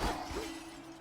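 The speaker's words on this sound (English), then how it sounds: "shattering pots for money again?" Clay pots smash in the video game Hades II, a quiet crunching shatter at the start that trails off into a faint low hum and background game ambience.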